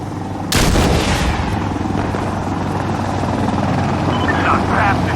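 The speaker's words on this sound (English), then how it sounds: "They're shooting at us." A sharp gunshot cracks out over a constant low rotor-like drone in the Insurgency Sandstorm shooter game, with faint chatter and a few lighter distant pops following.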